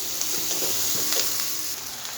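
Spices with turmeric and chopped green chillies sizzle in a hot frying pan while a spatula stirs them, a steady close crackle with light scraping taps.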